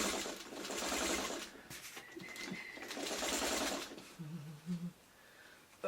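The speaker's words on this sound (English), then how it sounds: "now all we have to do is sew down the center, and we're done" A sewing machine runs in bursts, stitching down the center of pieced quilt blocks, its steady whir pausing briefly and resuming at close range with no talk.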